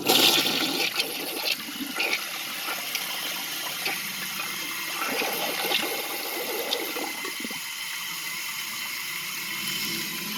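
A 2001 American Standard Cadet toilet flushes a washcloth and a grocery bag, giving a steady, close rush of gushing water that runs the full length and eases slightly toward the end.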